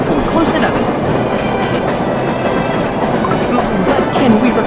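A loud, continuous rumble of a moving train from the Cookie Run Kingdom holiday express, with steady clattering wheels on rails and faint voices partly mixed in.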